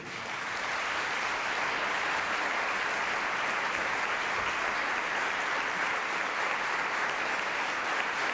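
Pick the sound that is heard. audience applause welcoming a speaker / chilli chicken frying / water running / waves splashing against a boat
audience applause welcoming a speaker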